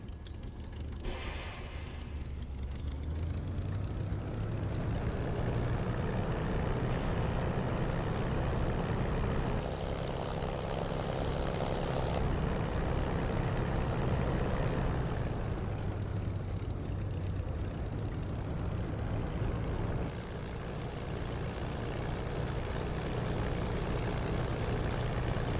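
An aircraft engine in a combat flight simulator game drones steadily while the plane taxis toward the runway end, a constant low hum with a few shifts in tone and brief bursts of brighter hiss.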